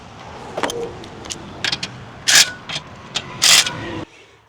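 Bolts being tightened on a Ramp & Clamp mount on a trailer: a series of short metallic clicks and ratcheting bursts, two louder broadband clanks midway, close and alone with no talk.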